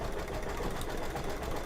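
An embroidery machine stitches an in-the-hoop Easter egg stuffie with a fast, even mechanical buzz and needle rattle that runs continuously and close by, with no talk over it.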